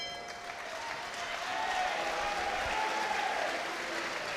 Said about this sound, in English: Raucous applause with 2 to go.